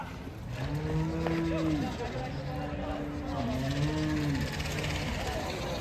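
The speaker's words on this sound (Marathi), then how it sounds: "प्युअर प्युअर रेसिंगचं वासरू आहे बघा" A racing-breed calf bellows with long, drawn-out moos, repeated several times, over a steady background hum with some voices, at a cattle market in Chalisgaon.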